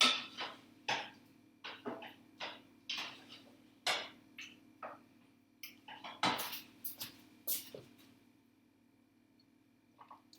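Beef browning in a pot for chili is stirred, giving a run of spoon scrapes and clanks against the pot, fairly close and steady for several seconds before the stirring fades out.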